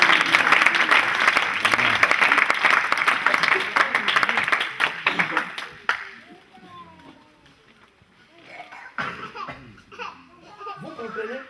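A church congregation at a French-language service claps and cheers loudly for about six seconds, then the applause fades and voices carry on more quietly, with a few scattered claps rising again near the end.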